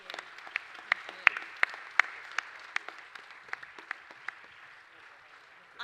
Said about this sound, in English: perhaps a big round of applause, please,